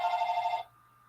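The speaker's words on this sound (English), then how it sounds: "I am not going to answer the telephone because every time I answer our house phone, it's somebody selling me something." A house telephone rings with a fast trilling electronic bell, one burst of about half a second that cuts off abruptly, leaving a quiet room hum.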